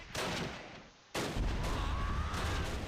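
Artillery shells strike in the Close Combat: Last Stand Arnhem strategy game, two loud blasts cracking out a second apart, each followed by a long rumbling roar of debris and echo, with no voices.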